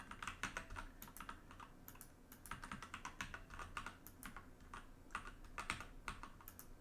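Rapid, continuous clattering of keystrokes on a poor-quality computer keyboard at a live puzzle-solving event, the taps coming in quick bursts and short runs, fairly close and with no voices over them.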